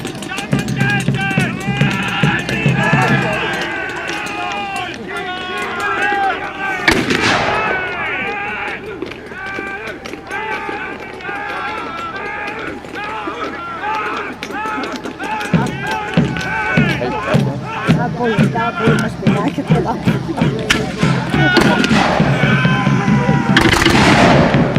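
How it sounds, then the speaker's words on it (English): Redcoat reenactors fire musket volleys at a Killiecrankie battle reenactment, loud sharp cracks and ragged bursts recurring throughout, with someone narrating continuously over the gunfire. "So the redcoats are keeping up their volleys of musketry."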